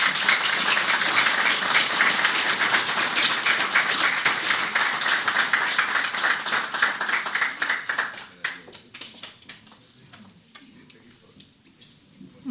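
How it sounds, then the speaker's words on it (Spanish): An audience gives sustained applause for Manolo at a formal book presentation, with dense, even clapping that thins out and fades to scattered claps near the end. "Ruego un aplauso para Manolo, por favor."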